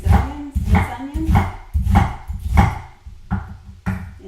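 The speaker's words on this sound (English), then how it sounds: "I'm just going to cut up this onion" A knife chops an onion into medium chunks on a board, about seven firm, close thuds in an uneven rhythm, with a brief vocal sound near the start.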